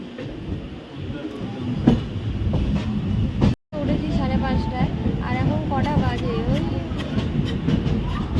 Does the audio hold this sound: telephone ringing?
no